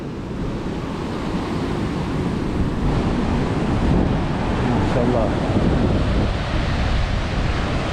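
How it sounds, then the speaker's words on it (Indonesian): Big sea waves breaking on the coast of West Seram under strong wind, a loud continuous roar of surf with heavy wind buffeting the microphone, and a voice speaking briefly over it. "Wow, ombaknya luar biasa ya. Ombaknya besar sekali teman-teman."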